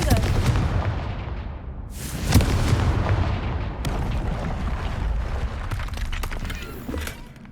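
In Hogwarts Legacy, Confringo spells set off loud booming explosions, several heavy blasts with crackling, shattering debris in quick succession, close and dominant.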